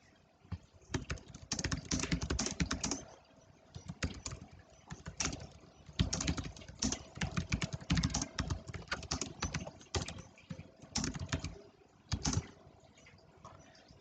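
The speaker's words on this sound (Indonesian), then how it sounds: "ntar saya ketik dulu" Quiet typing on a computer keyboard, with irregular bursts of fast key clicks and short pauses between them, heard alone with no talk.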